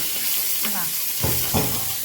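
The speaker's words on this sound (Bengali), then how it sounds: "তো চিংড়ি মাছটাকে এর মধ্যে ভেজে নিই।" Prawns coated in salt and turmeric frying in a pan, a steady close hiss of hot oil broken by a few louder crackling bursts as they are stirred.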